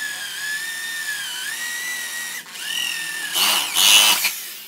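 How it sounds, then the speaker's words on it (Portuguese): A power drill with a bit spins up into a high steady whine that rises and dips in pitch, then bites into wood with a louder grinding rasp near the end. "Vou instalar ela na broca, a gente fura."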